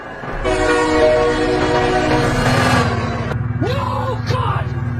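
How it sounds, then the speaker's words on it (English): A train rumbles close by with a loud, sustained multi-tone horn blast lasting a few seconds, then the horn stops as the rolling rumble continues and a person cries out in alarm over it. "Oh my god, train!"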